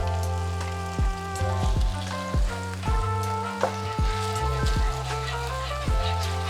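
Garlic and hot chili peppers frying in a pan give a steady, soft sizzle that continues under background music, with occasional light clinks.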